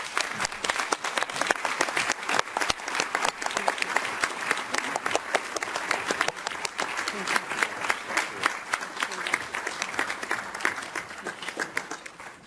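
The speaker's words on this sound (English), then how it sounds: "Big round of applause to her." Sustained audience applause fills a plenary session hall at the European Economic and Social Committee, dense overlapping claps continuing steadily for about twelve seconds before fading slightly at the end.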